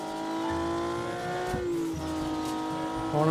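A car in a car dealership video game drives along a road, its engine a steady droning hum with pitch shifts as it speeds up and eases off, plus a brief tire squeal midway, with no voices.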